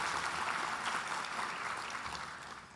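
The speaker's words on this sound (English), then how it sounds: "So please give them a round of applause." Audience applause in a large conference hall during a water summit's opening plenary: dense, sustained clapping from a big crowd, fairly loud and slowly tapering off toward the end.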